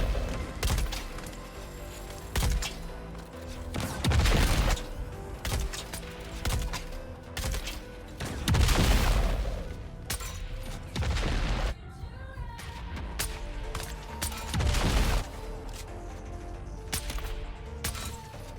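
Rocket launches and explosions boom repeatedly in a Dune Awakening PvP fight, with heavy blasts and crackling impacts landing in irregular bursts, some very loud and close, over a busy battle ambience.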